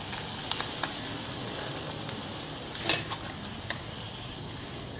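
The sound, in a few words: Spam frying with soy sauce and sugar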